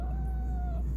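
A pet cat being held too long meows angrily, a single drawn-out, wavering cry lasting about a second, close and fairly loud over a low steady hum.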